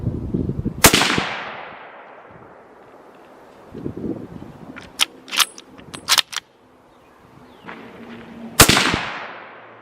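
.25-06 rifle firing Winchester ammunition at a 100-yard range outdoors: two loud, sharp single shots several seconds apart, with wind noise and some handling clatter between them.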